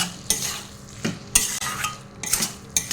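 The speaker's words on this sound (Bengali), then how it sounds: "চালের গুঁড়ি দিয়ে এটা আবার ভালো করে ভেজে নেব" Banana flower fried with rice flour in a pan for Bengali mochar ghonto: a spatula stirs and scrapes in repeated close strokes over a soft, steady sizzle, with no voices.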